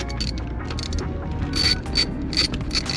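A ratchet clicks in short quick bursts while loosening the 12mm bolts on the EGR valve of a Subaru WRX engine. The clicks come close and crisp, about four spaced bursts over a low background hum.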